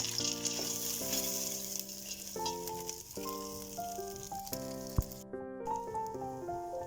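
Pasta toasts in butter and tomato paste in a pan, giving a soft continuous sizzle under louder melodic background music, with one sharp knock partway through.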